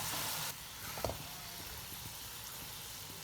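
Fried okra in masala sizzling in a pan over a low-medium flame, a soft steady crackle with a louder hiss at first and a faint clink of a spoon stirring, no talking.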